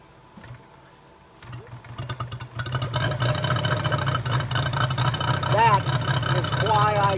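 A Moki 257 250cc seven-cylinder radial gas engine catches after a cold start and settles into a steady, throbbing idle around 1,000 RPM, loud and close, with a voice speaking over it.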